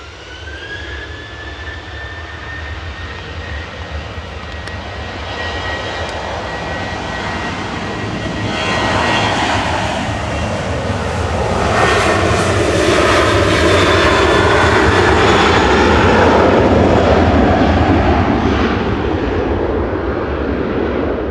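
A Ryanair jet airliner takes off at Manchester Airport, its engines building from a steady whine into a loud, broad roar that swells over about twenty seconds and holds strong, with no talking.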